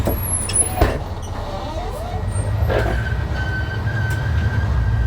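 A bus drives past with a continuous low engine rumble and road noise that swells and fades, marked by short hisses and clunks, while people talk over it.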